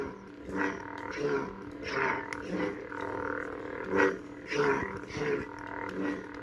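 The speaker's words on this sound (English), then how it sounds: "I like the clash sound on this font." An Ultrasabers Bellicose lightsaber sound font, its hum and clash sounds pulsing in rough repeated bursts, fairly loud and alone.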